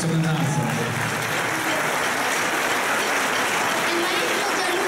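Audience applause at a Christmas concert by an orchestra and choir in Termoli, continuous steady clapping throughout with faint tonal sounds and murmuring mixed underneath.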